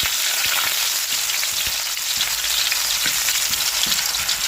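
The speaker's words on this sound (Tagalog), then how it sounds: "Umpisahan po natin yan sa ating paggigisa sa ating mga aromatic." Ginger sautés in a hot wok, or kawali, as the base for a Filipino fried tilapia dish, giving a steady, bright, close-up sizzle with faint stirring clicks and no talking.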